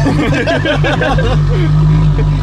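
A Ferrari LaFerrari with a straight-pipe exhaust idles close by with a steady, deep low rumble that runs throughout, while people talk over it.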